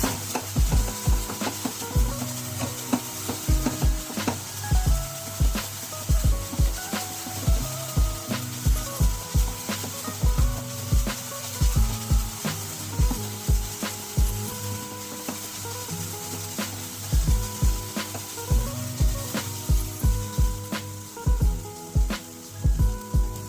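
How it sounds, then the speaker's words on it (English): Chopped onion and garlic sauté over high heat, with a constant sizzle broken by regular, fairly loud scraping or tapping strokes in a steady rhythm that runs throughout, and no talking. "Let them saute on high heat for at least 2-3 minutes without stirring them."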